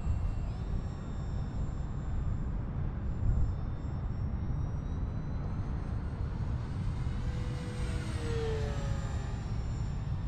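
A Banana Hobby P-40 WarHawk RC model airplane with bomb drop flies overhead, its electric motor a steady droning whine that shifts pitch as it passes, over constant outdoor wind noise.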